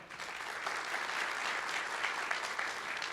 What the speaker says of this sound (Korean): 박수로 환영을 부탁드리겠습니다.